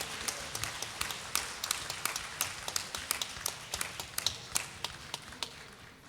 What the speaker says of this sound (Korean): 우리 다시 한번 뜨겁게 박수로 격려해 주시면 감사하겠습니다.